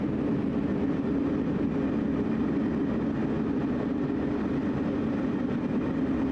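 A simulated train in Train Sim World running at full throttle at roughly 70 to 75 mph, a steady continuous rumble and drone with no breaks, moderately loud and alone throughout.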